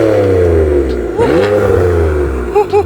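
A BMW M3 with a new exhaust revving up and falling back, a loud close engine note that climbs and dips in a couple of sweeps with a rumbling low drone underneath and brief bursts of voices.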